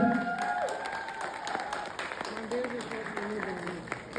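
Steady applause from a crowd at a karaoke contest fills the clip, with a voice or tonal sounds rising above the clapping.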